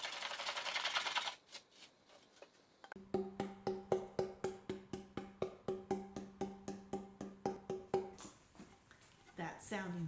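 A carved violin top plate is tapped by hand in a steady run of about twenty evenly spaced, ringing knocks, each with a clear resonant tone, heard close after a brief rustle and before a short voice at the end.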